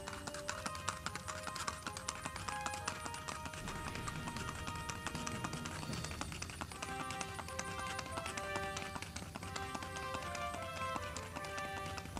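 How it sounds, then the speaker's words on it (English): Paso Fino horse hooves clip-clop in a rapid, even, continuous footfall, faint and steady beneath sustained music. "Among horse breeds, the footfall is music."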